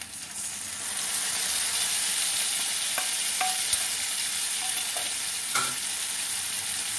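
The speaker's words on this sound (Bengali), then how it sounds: "এবারে মশলা গোলাটা দিয়ে দিচ্ছি।" Spice paste hits a hot pan for an echor (green jackfruit) kofta curry, bringing a sudden rise into a steady close sizzle with a few light clinks of stirring.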